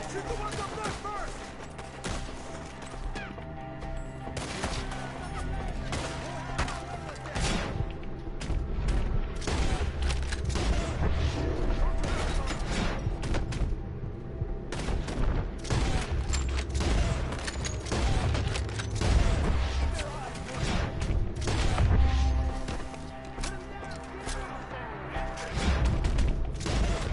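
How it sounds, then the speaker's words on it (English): Gunfire crackles through a Red Dead Redemption 2 shootout, with repeated sharp shots and booms over continuous game sound for almost half a minute, while voices shout amid the fighting. "Shoot the ones up there first!"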